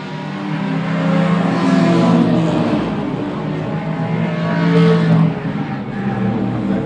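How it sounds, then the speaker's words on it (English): Race cars of the SAES series battle on track during round 2 of the 500 race, engines droning loud and steady with a swell of revving as they pass, without a break. "So our top two lean cars out on track, already doing battle."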